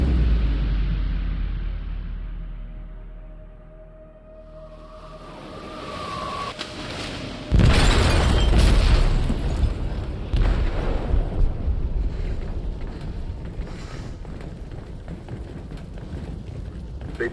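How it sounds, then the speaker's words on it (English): A heavy explosion on a ship in the video game Detroit: Become Human hits after a rising rumble, followed by a sustained roaring, crackling aftermath with scattered impacts. Speech is faint or absent. "They detonated an explosive in the hold. The ship is sinking, sir."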